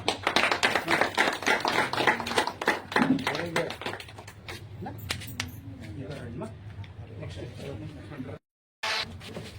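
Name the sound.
applause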